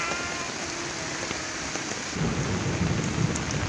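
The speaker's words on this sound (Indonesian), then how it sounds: "Hujannya sangat deras" Heavy rain pours down steadily outdoors, a dense close hiss of drops that swells louder partway through.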